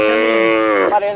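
Cattle on a Costa Rica ranch let out a single loud, close moo lasting about a second, rich and drawn out, with a slight wavering break near the end.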